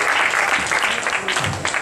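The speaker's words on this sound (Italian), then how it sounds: "facciamo un applauso" An audience at a Five Star Movement presentation in Rome's Third Municipio claps in a brief, fairly loud burst of dense applause lasting under two seconds.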